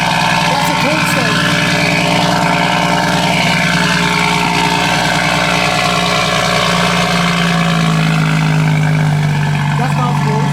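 A Toyota MK5 Supra fitted with a Boost Logic titanium exhaust sits idling after a cold start, a loud, steady low drone. The pitch settles lower near the end, with voices faintly over the top.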